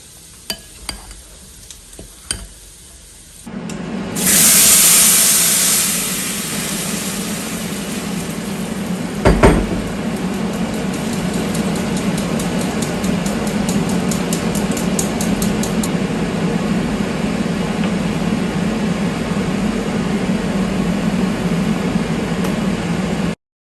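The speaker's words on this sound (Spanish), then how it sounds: "Le voy a agregar 3 huevos enteros y vamos a batir muy bien." Three whole eggs being beaten steadily in a bowl, a continuous close whisking swish that holds at an even level for a long stretch after a few light taps at the start.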